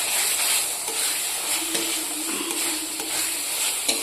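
Loitta fish curry with spices and potatoes is stir-fried in a pan, a loud continuous sizzle with soft scraping of the spoon running throughout.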